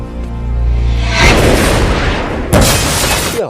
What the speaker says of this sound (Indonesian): mobilnya meledak